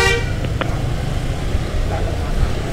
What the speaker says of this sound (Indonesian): Gila, macet parah Malioboro.